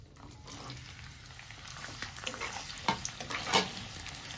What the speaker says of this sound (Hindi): शिमला मिर्च भी हमें हल्की हल्की फ्राई करनी है।